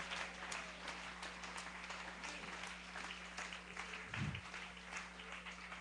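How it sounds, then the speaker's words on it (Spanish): A church congregation applauds during a Spanish-language service, a faint, distant patter of clapping spread over several seconds beneath a low steady hum, with one brief louder thump near the end. "Dale ese aplauso al Señor esta mañana."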